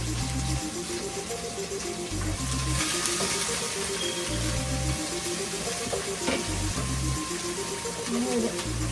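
Garlic, onion and green chili fry in oil in a pan after nigella seeds, giving a steady, close sizzle that runs the whole time over a low, tonal background.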